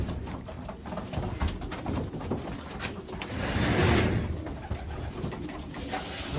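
Racing pigeons coo softly and continuously inside a loft, their low throaty calls layered close together with faint shuffling and movement, and no voices.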